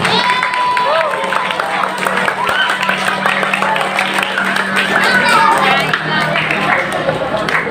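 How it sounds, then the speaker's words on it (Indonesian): A school audience at an Isra' Mi'raj gathering claps and cheers for the students, a lively crowd noise running throughout with voices mixed in. "Tepuk tangan untuk anak-anak semuanya."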